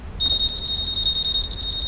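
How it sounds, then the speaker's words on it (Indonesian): A Honda Forza 250 anti-theft alarm chirps close by, a fast, even series of bright electronic beeps that holds steady for the whole stretch. "Kalau alarm ini kita pencet, dia aktif."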